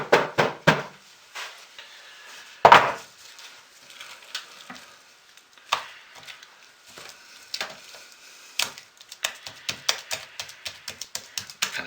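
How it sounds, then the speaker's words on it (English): Sharp, irregular smacks and taps of a soap mold full of thick hot process soap with seizing fragrance oil being banged on the floor and knocked on its side, loud close knocks separated by quiet gaps. "we'll smack it on the floor"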